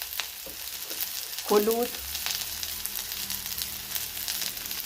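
Okra (bhindi) with three green chillies frying in a pan: a steady, close sizzle with light stirring, and one brief spoken word partway through.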